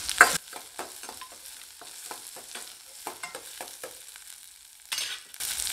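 Onion with two dried red chilies and a green chili sautéing in a pan, a soft steady sizzle broken by repeated scraping stirs and a few louder clanks near the start and end, no voices.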